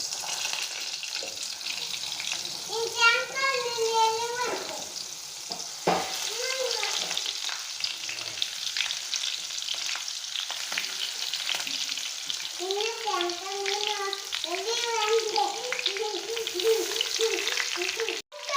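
Curry leaves and cumin sizzle in hot oil on a low flame, a close, crackling fry with occasional stirring, while a voice talks over it at intervals.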